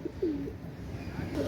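A pair of black-bodied, white-tailed pigeons coo in soft, low repeated phrases close by, with the calls clearest at the start and again near the end.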